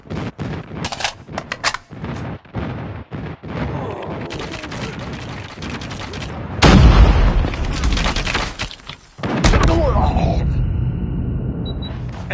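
Gunfire and explosions from an airstrike in Call of Duty Mobile: rapid bursts of shots, then heavy booming blasts that swell and rumble, with game voices speaking over parts of the action.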